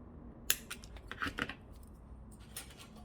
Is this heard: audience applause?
no